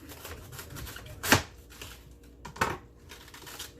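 A dull kitchen knife cuts up a head of cabbage, giving two sharp crunching chops with faint rustling and handling between them.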